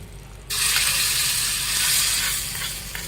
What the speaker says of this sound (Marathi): बसते की नाही फोडणी मस्तपैकी